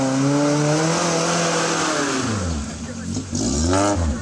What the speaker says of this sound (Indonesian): Ini mobil off-road.